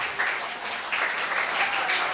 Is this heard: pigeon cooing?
no